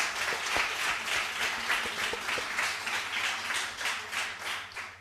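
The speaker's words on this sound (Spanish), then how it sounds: "Un aplauso de bienvenida para Grecia." An audience gives a welcome round of applause for a newcomer at a religious gathering, sustained dense clapping that swells and fades slightly over several seconds.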